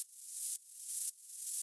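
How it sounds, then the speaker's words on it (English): Band-pass filtered white noise with auto pan, a bright hissing wash that swells and cuts off three times in a row, faint and alone. "The white noise with the bandpass filter is a really nice sound, and then when you add the auto pan to it"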